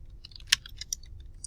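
Keys tap on a computer keyboard while a Google Doc is being typed in, a quick uneven run of close, crisp clicks with one sharper stroke.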